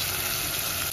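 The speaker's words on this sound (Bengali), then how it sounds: "ভেজে নেব।" Food sizzles in a hot pan seasoned with salt and turmeric while a paneer curry is cooked, a brief, steady, close frying hiss with no voices.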